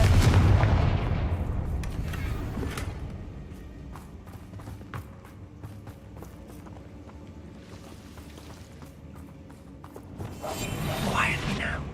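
A fantasy spell explosion goes off in a heavy burst at the start, then decays into rumbling debris and clattering mechanical sounds before a second swell of noise rises near the end.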